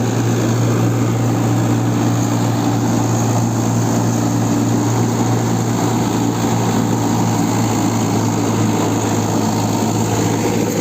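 A tractor-drawn reaper harvesting a green, damp wheat field gives a steady, loud, droning engine roar with mechanical rattle, continuous and close throughout, with no talking.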